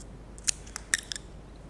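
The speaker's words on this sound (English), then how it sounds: "if I crease the end like this, then I can make a V-shaped cut." Scissors snip a V-shaped cut into the creased end of a drinking straw, producing two or three crisp close clicks in quick succession against a quiet background.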